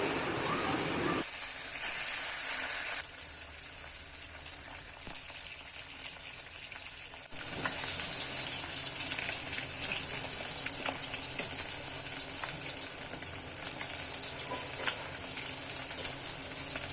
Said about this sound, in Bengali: কড়াই সর্ষের তেল দিয়ে দিয়েছি, দিয়ে ভালো করে মাছগুলো ভেজে নেব।